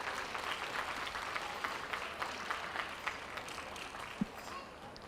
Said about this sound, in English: Big round of applause. Put your hands together for him if you would.